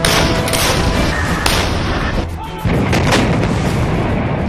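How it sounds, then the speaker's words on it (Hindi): Two howitzer artillery guns firing live together, loud, heavy booms layered over a dense, continuous roar of blasts and echoes, with sharp bursts standing out close by and no talking. "एक साथ दो हावित्जर तोप की लाइव फायरिंग आपको यहां पर दिखा रहे हैं।"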